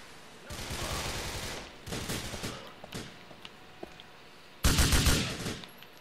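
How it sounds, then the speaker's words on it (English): Bursts of rapid gunfire from the video game Grand Theft Auto IV, loud and close: a long volley, a shorter spray, a few scattered single shots, then another heavy burst near the end. "I can't hear you past all the gunfire, man."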